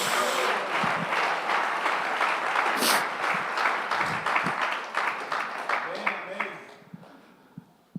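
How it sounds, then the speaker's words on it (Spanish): Congregation applauding during a Sunday church service, a dense sustained wash of clapping that fades out toward the end, with a few scattered claps remaining. "Denle un aplauso al Señor Jesús de la gloria"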